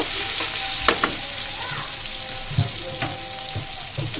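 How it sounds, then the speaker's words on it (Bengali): Steady, dense sizzling of onions frying in a pan, with occasional clinks and scrapes of a utensil stirring, no voices. "এই পেঁয়াজটাকে আমি ভাজা ভাজা করে নিব"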